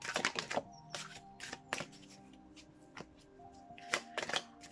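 Tarot and oracle cards being shuffled by hand in bursts of crisp riffling slaps and flutters, with brief pauses between flurries, close and fairly quiet with no talking.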